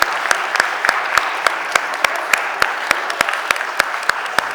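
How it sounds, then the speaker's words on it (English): Steady, evenly spaced clapping at a city council committee meeting, a regular beat of sharp claps over a low background murmur. "Let's give them a round of applause"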